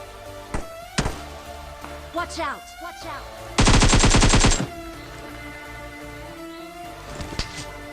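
Battle royale video game gunfire, with a few sharp single shots early, then a loud sustained burst of rapid automatic fire lasting about a second, followed by scattered game sounds and more distant shots.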